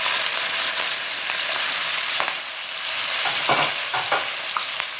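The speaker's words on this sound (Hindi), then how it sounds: "तो मैं इसके अंदर प्याज ऐड कर" Onions fry in hot oil in a karahi, giving a loud steady sizzle close by, with a few light scraping stirs toward the end and no talking.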